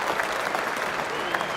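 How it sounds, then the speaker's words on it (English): Steady applause from a large cricket crowd at Lord's as Brian Lara leaves the ground, a dense continuous patter of clapping without pause. "let's listen to the applause he gets as he leaves the ground"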